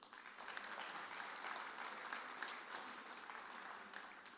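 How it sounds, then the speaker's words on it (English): A large FFA convention audience applauds steadily, a dense continuous wash of many hands clapping from a crowded hall, sustained at even loudness throughout. "Please join us in another round of applause for all of our district officer teams"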